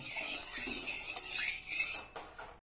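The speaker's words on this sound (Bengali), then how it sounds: "আমি চিনিটাকে আর নুনটাকে ভালো করে মিশিয়ে নেব।" Spoon stirring sugar and salt into water in a pot, with light metallic clinks and scraping against the vessel over a few seconds, close and moderately loud, with no talking.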